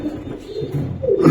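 Pakistani highflyer pigeons cooing on a pigeon farm, a low throaty coo rising toward the end, close and moderately loud with no talk.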